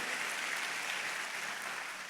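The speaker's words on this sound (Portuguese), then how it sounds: "pode dar um aplauso forte mesmo" A church congregation claps during a sermon, a steady wash of applause heard faintly and evenly throughout the short stretch.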